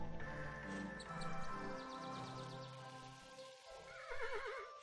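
A horse neighs in the video game Kingdom New Lands, a loud, wavering whinny with trilling repeats over faint soft hoof and ambient game sounds.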